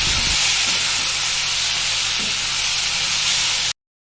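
Cumin, fennel and other spices fry for a matar paneer curry, giving a loud, steady, close sizzle that hisses without a break and then cuts off abruptly.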